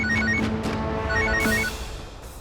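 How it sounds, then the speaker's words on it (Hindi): A telephone rings with a bright, repeating electronic tone after a number is dialed, steady and fairly loud, with a background music bed underneath. "विवान ने वो छिपाए हुए फोन पर उनका नंबर डायल कर दिया है।"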